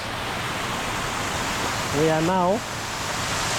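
Steady, broad rushing roar of a man-made waterfall at Silwane Nature Reserve in Bulawayo, heard up close and continuous, with a voice speaking briefly over it.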